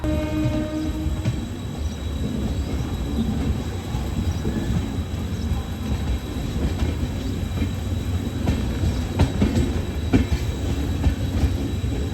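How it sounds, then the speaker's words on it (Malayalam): An Amrit Bharat Express train rumbling steadily along the tracks, heard from on board, with a continuous low roar and faint occasional clacks and squeals. "അങ്ങനെ നമ്മുടെ അമൃത് ഭാരത് എക്സ്പ്രസ് കറക്റ്റ് ടൈമിന് തന്നെ ചെർളപ്പള്ളിയിൽ നിന്നും പുറപ്പെട്ടിരിക്കുകയാണ്"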